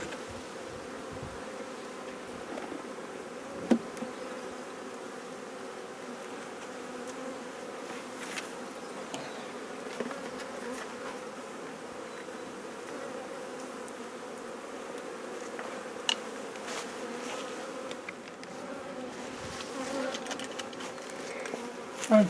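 Honeybees buzzing around a hive as a queen is united with a queenless colony, a continuous low droning swarm with occasional nearer passes, steady throughout.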